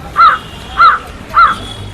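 A crow caws three times in a steady, evenly spaced rhythm, each call loud and clear and fairly close, with quiet background between calls.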